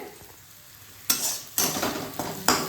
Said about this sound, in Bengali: এখানে আলুর চোখার জন্য পেঁয়াজ ভাজা হচ্ছে